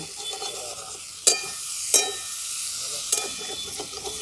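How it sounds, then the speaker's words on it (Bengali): Potatoes and drumsticks fry in a pan with a steady close sizzle, broken by three sharp scraping stirs of a spatula against the metal. "আলুগুলো দেখুন খুব ভালো করে ভাজাও হয়ে গেছে"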